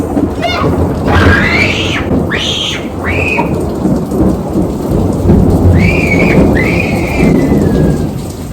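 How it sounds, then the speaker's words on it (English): Heavy rain pours steadily, loud and near, while thunder rumbles low beneath it and whistling tones sweep up and down several times over the downpour. "It's raining hard, y'all."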